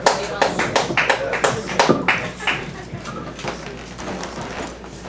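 Small open mic audience gives a short round of applause, with distinct, sparse claps that start strong, thin out after a couple of seconds and fade into quieter scattered patter.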